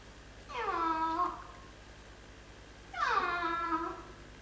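A cat gives two separate meows about two seconds apart, each a drawn-out, rising-then-falling call that is clear and fairly close against a quiet background.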